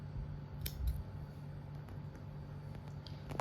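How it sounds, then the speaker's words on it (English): Scissors snipping acrylic yarn while crocheting a granny hexagon, a single quiet close snip over a soft background hum. "Just let it go through some stitches and then we can just cut the yarn."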